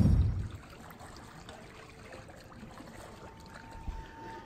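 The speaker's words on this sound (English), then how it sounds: "You are hearing the gentle waves of the Sea of Galilee breaking on the rocks here at our Ron Beach Hotel" Gentle waves from the Sea of Galilee wash against rocks along the hotel shore, a soft continuous trickling and lapping close by with one brief louder splash near the start and no talking.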